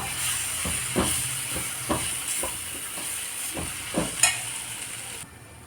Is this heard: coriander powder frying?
yes